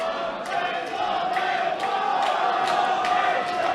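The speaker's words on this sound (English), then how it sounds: "And the crowd are getting into it now." A crowd at an MMA fight roars steadily in a big hall, with repeated sharp shouts and cheers rising over a dense, continuous wall of voices.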